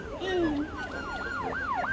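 A toy police car siren wails in repeated rising-and-falling sweeps, fairly close and steady for the whole stretch, with no talk over it.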